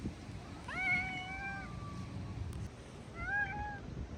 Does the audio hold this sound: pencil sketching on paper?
no